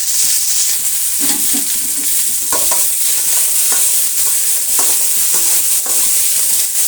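Red chillies and curry leaves fry in hot oil for a bitter gourd masala gojju, producing a loud, constant close sizzle with occasional stirring scrapes and no voices.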